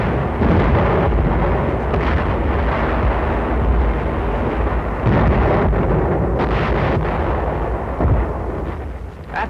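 A heavy WWII artillery bombardment during the battle of Saipan rumbles loud and continuous, with dense booming blasts layered over a deep roar throughout.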